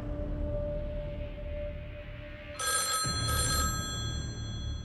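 A telephone rings with a bright electronic trill in two short bursts over a low background hum, with no talking.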